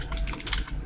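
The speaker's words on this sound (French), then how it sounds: "Je vérifie mon clavier, une seconde" Rapid typing on a computer keyboard, with a quick run of light, irregular clicks close to the microphone against a low background hum.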